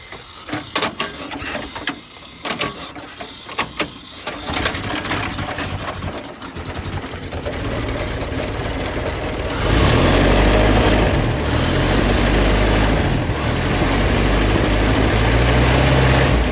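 A Ford Model T engine running, starting with uneven sputtering bursts that settle into a steady, loud mechanical chatter and then grow louder and fuller as gas reaches the engine.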